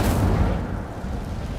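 The Incendio fire spell in Hogwarts Legacy goes off as a loud, close whooshing burst with a deep rumbling roar that gradually fades.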